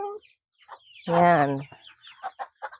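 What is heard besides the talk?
chickens clucking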